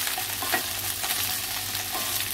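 Okra (bhendi) frying in a little oil crackles and sizzles steadily up close, with soft stirring scrapes through the short stretch and no voices.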